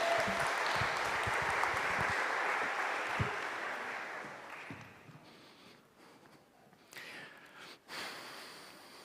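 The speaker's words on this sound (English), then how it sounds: "Give them a round of applause, our volunteers." An audience applauds volunteers at a home opener event, a dense burst of clapping that is loud at first. The clapping fades over several seconds and a few scattered sounds remain at the end.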